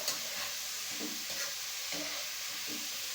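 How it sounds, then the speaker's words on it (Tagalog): Vegetables stirred in a hot pan just after MSG goes in: a constant close sizzle broken by a few scraping strokes of a spoon, with no talking. "Siyempre, hindi natin maiwasan haluin pagka naglagay tayo ng MSG."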